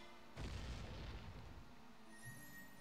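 A single bomb blast in Zelda: Majora's Mask, a sudden booming burst that rumbles and decays over about a second, followed by faint chiming game tones.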